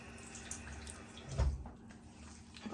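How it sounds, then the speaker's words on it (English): A tap runs into a sink while someone wets their face, a soft steady trickle with faint splashes and a brief louder splash partway through, heard close by. "I'm going to wet my face real quick"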